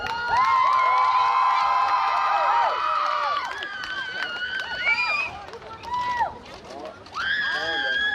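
A crowd in the stands at a county fair demolition derby in Baudette, Minnesota, shouts and whoops loudly for several seconds, dips briefly, then swells into another burst of cheering.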